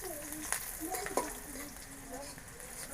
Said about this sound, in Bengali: পেঁয়াজ একটু ভাজানো,